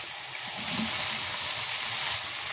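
Potatoes for ghugni, a green pea curry, stirred and sautéed in a hot pan, giving a steady close sizzle and frying hiss that runs unbroken throughout.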